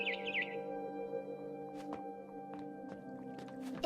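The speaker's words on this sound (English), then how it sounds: "Then I heard chirping outside my window." A barn swallow chirps in the video game What Remains of Edith Finch, a short burst of high bird calls at the start over a steady sustained music bed, followed by faint scattered ticks.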